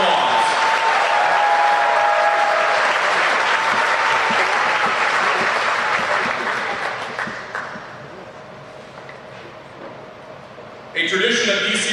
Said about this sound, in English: Let's give them a large round of applause.